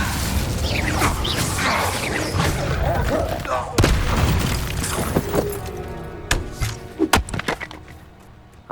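Incendio fire spell cast in Hogwarts Legacy, a loud whooshing burst and crackle with a sharp boom midway, then scattered crackling pops and magical hits fading out.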